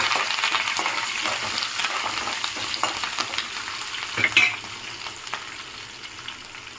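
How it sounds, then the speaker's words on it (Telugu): Green chillies, dried red chillies and curry leaves fry in hot oil with a loud, continuous sizzle, while a utensil stirs and taps against the pan throughout. "కట్ చేసి పెట్టుకున్న పచ్చిమిర్చి అండ్ ఎండుమిర్చి కొంచెం కరివేపాకు వేసుకుందాము కొంచెం లైట్గా వేగనిద్దాము"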